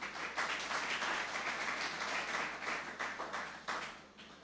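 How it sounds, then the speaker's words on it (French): An audience at a conference applauds, a dense, even wash of many hands clapping that carries on steadily and begins to thin and fade toward the end, with no talk over it. "sous vos applaudissements, bien sûr."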